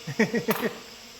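Bees from a poisoned hive buzz in several short, close bursts of droning hum, rising and falling over about a second before fading to a low background.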